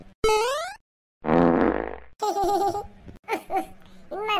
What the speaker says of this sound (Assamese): তাকো ইমান কেলা পাদিছে, গোন্ধাইছে